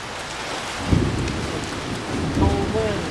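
Thunderstorm on a farm in summer, steady rain hissing throughout with two low rumbling thunder claps, the first near one second and a second weaker roll later, with wind in the background.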